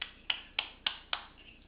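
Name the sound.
baby clapping hands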